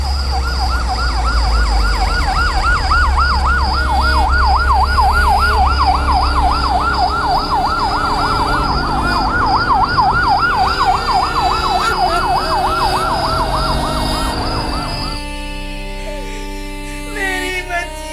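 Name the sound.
ambulance siren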